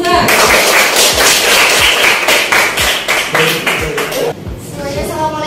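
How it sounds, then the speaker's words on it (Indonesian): Classroom applause for a student group, a dense burst of many hands clapping loudly and steadily, tapering somewhat toward the end. "silakan beri tepuk tangan untuk kelompok 2"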